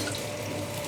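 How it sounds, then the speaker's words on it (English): Cold water runs steadily from a kitchen tap onto cooked plantain, a constant close splashing rush with no pauses. "Okay, we put cold water."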